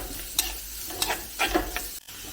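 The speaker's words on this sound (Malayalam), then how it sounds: "സവാള ഒന്ന് സോഫ്റ്റ് ആയാൽ മതി അതുവരെ ഒന്ന് വഴറ്റിയെടുക്കാം" Sliced onion sautés softly in a pan for a fish roast, with a low steady sizzle broken by a few sharp scrapes and stirs of a spatula, close and fairly quiet.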